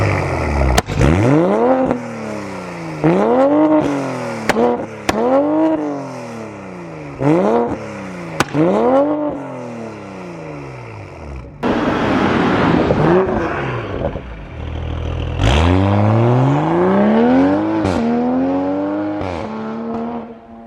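Modified sports car engine with 335 horsepower stock revved repeatedly, loud and close, each blip sweeping up and falling back in quick succession, then longer, harder pulls with rising howl and crackle at the end.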